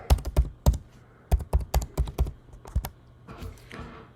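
Password being typed on a computer keyboard, a quick series of distinct clicky keystrokes in short bursts with a pause midway and softer clatter at the end, close and alone.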